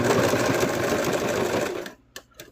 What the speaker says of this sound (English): Yeah, I'm still sewing.